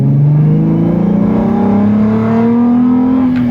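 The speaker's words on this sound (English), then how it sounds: "it's got great induction noise, great exhaust note" A car engine revs up smoothly and loudly, the exhaust note rising steadily in pitch as RPM climbs, close and dominant with a throaty induction growl and no voices over it.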